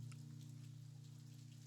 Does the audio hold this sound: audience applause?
no